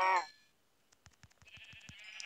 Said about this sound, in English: Ooh, if I can find some more sheep